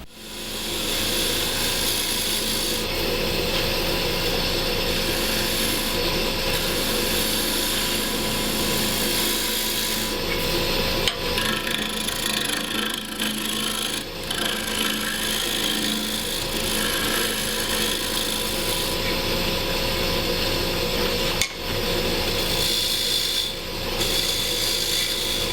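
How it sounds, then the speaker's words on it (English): A wood lathe spins green wood at 1500 rpm while a tenon is cut, giving a steady close whir with continuous scraping and rasping from the tool, without talk. "I turned the lathe speed up to 1500,"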